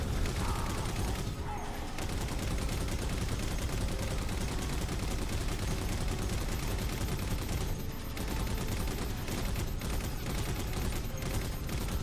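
Dense, continuous gunfire from a Halo 4 firefight, a relentless stream of loud shots and weapon bursts with no break, heavy and close throughout.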